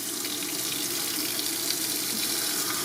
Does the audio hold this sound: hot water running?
yes